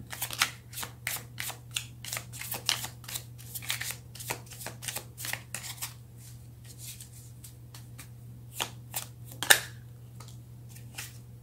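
Tarot cards are shuffled close by in a quick series of crisp riffles and flicks that thin out toward the end, with one sharper snap near the close, over a low steady hum and with no talking.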